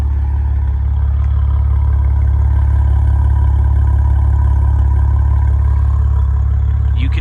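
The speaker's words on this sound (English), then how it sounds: "just listen to this thing purr" A 2017 Maserati Ghibli SQ4, a 404-horsepower sedan, idles after a cold start with a steady, loud, even engine hum and a faint mechanical clatter throughout, no voices over it.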